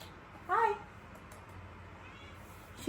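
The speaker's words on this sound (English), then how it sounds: "there's my kitty" A pet cat gives one short, quiet meow indoors in the middle of the night, heard alone against a hushed room.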